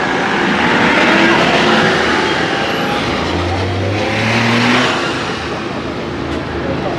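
A bus climbs a mountain road in Kerala, its engine a steady low rumble with a rising growl midway, and faint voices in the background.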